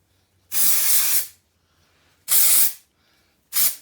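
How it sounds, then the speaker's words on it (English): Three bursts of aerosol dry shampoo spray hiss, the first two about a second long and the last shorter, separated by brief silences. "I'm going to be going in with some dry shampoo"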